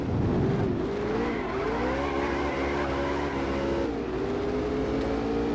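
An Alfa Romeo race car in a PS2 racing game roars around the track, its loud engine whine rising and falling with shifts while tires squeal continuously, with no talk.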